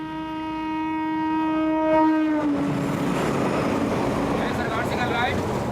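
Milk train arriving at an Indian railway station, a long steady horn blast with rich harmonics sounding for about two seconds, then giving way to loud rumbling, rattling wagons rolling in close by.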